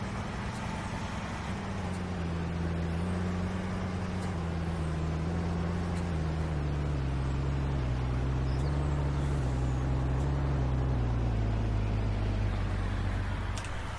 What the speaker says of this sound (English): musical engine sound